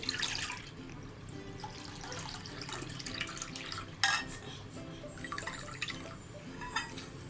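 The top layer of rice water is poured gently from one vessel into another, giving a soft, steady trickle with scattered drips and light clinks of metal pans.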